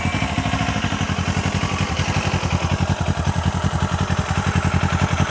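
A 2025 Kawasaki Ninja 500 SE motorcycle engine idles close by, with a steady, fast, evenly pulsing thump coming from the integrated muffler and no voices.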